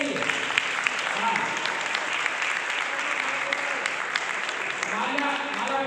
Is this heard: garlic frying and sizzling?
no